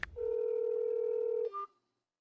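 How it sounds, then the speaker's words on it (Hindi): A telephone sounds while a call is placed: a short click, then a single sustained tone for over a second, followed by a brief higher beep before silence, close and clear with no talking. "मैं अभी उन्हें फोन करता हूं"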